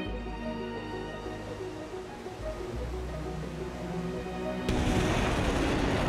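A missile launch in the DCS World flight simulator: a steady low rumble and hum, then a sudden loud, wide roaring blast near the end that keeps going.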